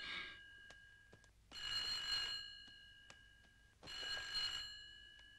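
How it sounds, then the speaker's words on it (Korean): A telephone bell rings in bursts, three trills spaced apart with quiet gaps between, fairly close and clear in an indoor setting from an old Korean film, with no talking. "가끔 저렇게 전화가"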